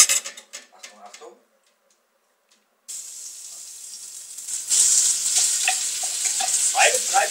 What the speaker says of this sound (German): jetzt kommt hier unser lecker gewürztes Rindfleisch da rein